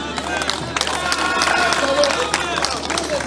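An audience applauds at a national ceremony in the Democratic Republic of the Congo honoring the President of the Republic. Scattered claps patter under a murmur of crowd voices, loud and close, steady throughout.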